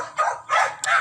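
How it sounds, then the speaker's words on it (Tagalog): Noisy dog outdoors in a rural Filipino yard, three short loud yelping barks in quick succession, close by. "Kaingay ng aso."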